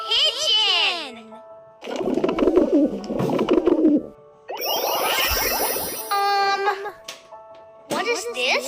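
Cooing pigeon, low soft rolling coos in short phrases set between brighter melodic chimes and tones, with a voice speaking at moments.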